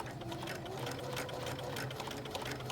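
A sewing machine stitches a fabric pin cushion, its steady mechanical whir and rhythmic needle chatter running close and even for the full stretch with no talking.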